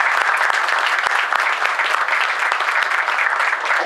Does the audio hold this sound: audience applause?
yes